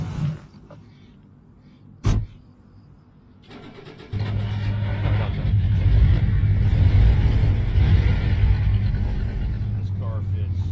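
Car in the video game DayZ starting up and driving into a garage: a sharp click, a brief quiet, then the engine catches and settles into a loud, steady rumble that keeps running.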